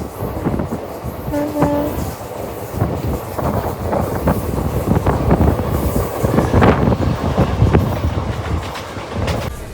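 Passenger train rolling fast past a skipped Hombal railway station, steady loud rumble with rhythmic clickety-clack of wheels over rail joints and a brief horn tone early on, continuous for the whole stretch.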